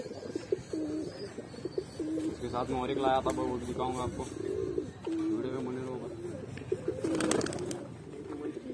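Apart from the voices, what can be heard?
pigeons cooing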